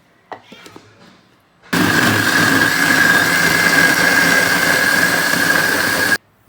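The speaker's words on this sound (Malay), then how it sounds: "Kisar sampai betul-betul halus." An electric blender grinds laksa spice ingredients with added water, a loud steady whirring roar with a high motor whine that starts abruptly after brief quiet talk and runs several seconds before cutting off.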